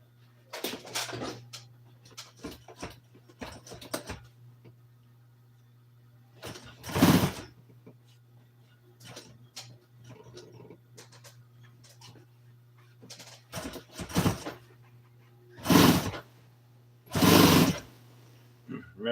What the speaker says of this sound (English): Gonna sew it close to the edge like that.